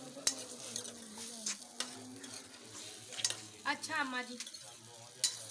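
Food sizzles and crackles steadily in ghee on a clay village stove, with women chatting close by over the frying.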